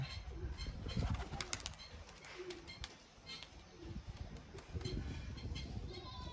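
Pigeons flap their wings in a few quick, fluttering bursts, close by, with soft cooing and outdoor noise between.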